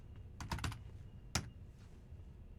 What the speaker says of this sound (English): I'm going to type show VLAN